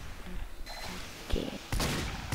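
Gunfire in the video game Team Fortress 2, several sharp shots and bursts over a low game soundscape, with the last bursts loudest.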